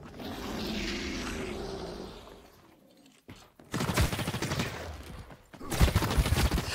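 Gunfire in the shooter game The Cycle: Frontier: after a quiet, hollow ambient stretch, loud rapid bursts of automatic shots crackle up close in two long volleys with a brief gap between them.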